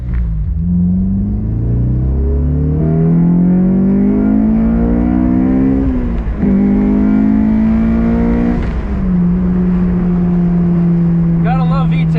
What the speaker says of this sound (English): Gotta love VTEC. It sounds so good.